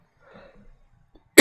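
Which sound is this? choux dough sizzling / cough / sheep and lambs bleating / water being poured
cough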